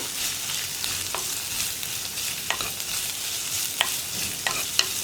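Onions sizzling steadily in a pan for a vegetarian brinjal curry, with a spatula scraping and clicking against the metal in several sharp strokes over the constant frying hiss, close and fairly quiet.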